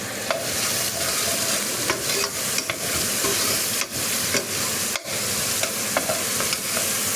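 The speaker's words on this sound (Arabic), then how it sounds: "البصله هي الاولى، صافي، وغادي نقليها مزيان" Onions for fish kabsa fry in hot oil in a pan, giving a steady, dense sizzle close by, with a few light clicks and scrapes of stirring and no talking.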